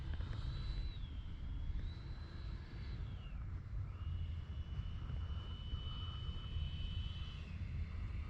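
An X-Fly Alpha RC airplane flies overhead, its small electric motor whining at a high pitch that rises and falls as it passes and turns, fairly faint and steady above a low background rumble.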